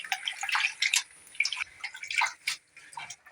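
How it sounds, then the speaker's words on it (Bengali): Leafy mete shak greens are washed by hand in water to rinse out sand, giving close, soft splashes and drips in uneven bursts, with no voices. "ভালো করে দুবার ধরে ধোবো শাকটাকে"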